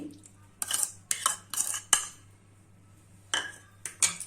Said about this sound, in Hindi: 1 नींबू का रस, इसको हम अच्छे से मिला देंगे।